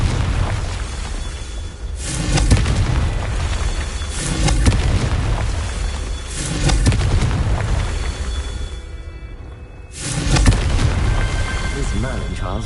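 Explosive Confringo spell blasts in Hogwarts Legacy, a series of deep booming bursts roughly every two to four seconds, loud and close, with a spoken voice calling the spell over the game audio.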